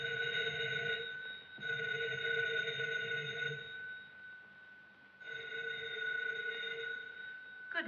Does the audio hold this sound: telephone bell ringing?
yes